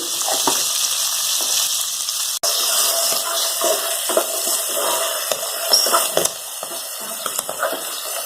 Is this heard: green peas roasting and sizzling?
yes